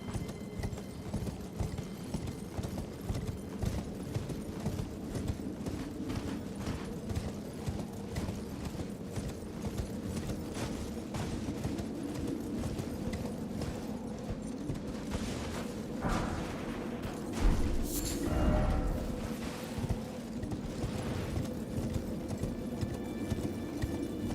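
Rhythmic hoofbeats of a horse galloping steadily in the fantasy video game Elden Ring, under game ambience, with a couple of louder booming impacts near the end.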